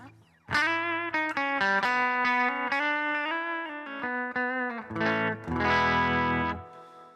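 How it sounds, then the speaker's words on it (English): A distorted electric guitar through a Tone Master Pro plays a series of notes and chords, washed in reverb that lets each one ring out, ending with a thick, sustained strum. "You can hear that going. You got a little bit of reverb on there."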